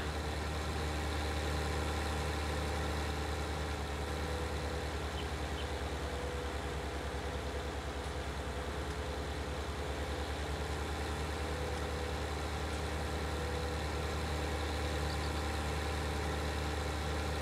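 A blue New Holland T8 or Case Magnum 380 tractor idles steadily in Farming Simulator 19, a constant low engine rumble with even vibration and no other sounds.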